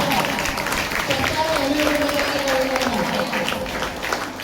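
High school students clapping for a teacher at a farewell ceremony: a dense wash of crowd applause runs the whole time beneath a voice talking over it.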